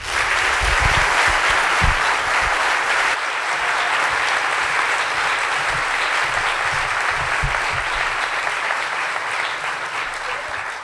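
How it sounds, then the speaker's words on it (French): An audience at an evening talk on skydiving and free fall applauds loudly and steadily, a dense sustained wash of clapping that holds for the whole stretch with only slight dips. "Merci d'applaudir très fort, Karine Joly."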